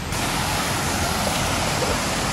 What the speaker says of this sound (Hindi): ये झरने यहाँ से बहता हुआ जा रहा है